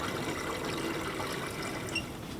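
Water poured over a freshly repotted rock elm bonsai, root-over-rock style in a bonsai pot, a steady close trickle and splash running evenly for the whole stretch.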